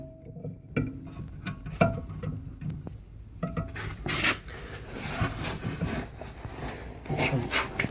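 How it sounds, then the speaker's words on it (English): A long breaker bar works on tight M14 brake caliper bolts on a VW with an electronic parking brake, giving a few sharp metallic clicks and knocks followed by scraping, rasping turns close by. "I'm gonna use a breaker bar. something with a long bar, and we're gonna undo these bolts."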